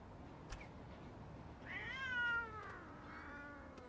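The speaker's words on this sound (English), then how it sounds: "Cat be gone." A cat lets out a single drawn-out meow, faint against a quiet indoor background with a soft tap shortly before it.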